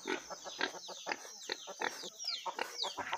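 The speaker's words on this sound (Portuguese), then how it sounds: "Pensa nas galinhas que bota." Chickens cluck busily at close range in a farmyard, with a rooster among them, giving irregular bursts of clucks and squawks at moderate volume and no talking.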